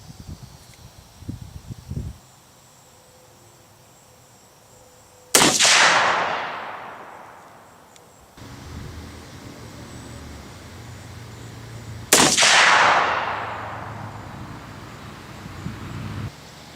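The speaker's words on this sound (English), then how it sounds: "So we'll be shooting at the top target this time." Two loud, sharp gunshots from a 7mm-08 handgun fired at an outdoor target, several seconds apart, each with a long rolling echo that decays slowly, with faint handling noise beforehand.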